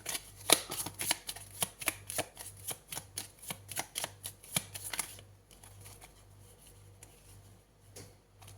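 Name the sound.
shuffling and drawing tarot cards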